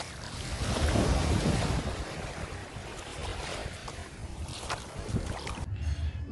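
Sea waves slam and wash onto a beach at a Cancun resort in Mexico, a loud continuous surf roar mixed with heavy wind buffeting the microphone.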